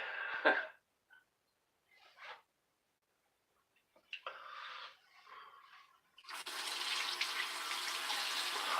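Water runs from a bathroom tap to wet the face before a wet shave, a steady close gush that starts after a few brief splashes and sink sounds separated by quiet gaps.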